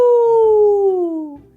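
Voices together imitate a wolf howl, one long falling sustained call rising loud at the start and sliding downward before fading out.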